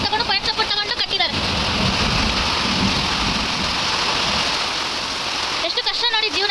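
Heavy rain pours down over a garden of chilli plants, a dense, loud, continuous roar of drops drumming on surfaces close by, with a person talking briefly at the start and again near the end.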